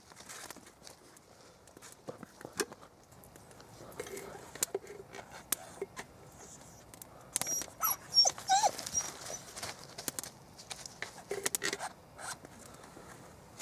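A dog moves about outdoors in wet woodland, with soft rustling, light footfalls and faint whimpers, quiet and close, and occasional muffled human sounds.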